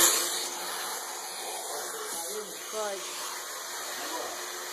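A vacuum blower dries a Chow Chow dog at home, its steady broadband hiss running continuously under voices and laughter nearby.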